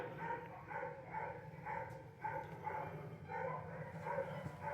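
A single dog in a county animal shelter's hospital room barks and yips repeatedly in a steady rhythm, faint and somewhat distant, with the sound carrying through an indoor space.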